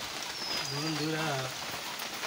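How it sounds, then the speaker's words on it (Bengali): Steady rain falls on surfaces outdoors, a soft continuous patter throughout, while a voice briefly speaks over it midway. "এই বৃষ্টি ওয়েদার দেখুন কি বৃষ্টি পড়তেছে"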